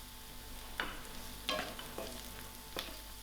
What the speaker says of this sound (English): I will allow this to fry just a little.